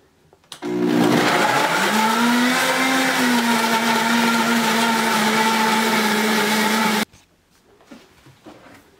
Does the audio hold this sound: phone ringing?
no